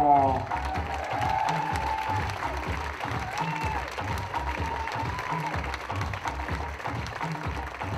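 Audience at a school show applauding the performers, clapping and some cheering at a moderate distance, mixed with crowd noise and a brief voice at the start.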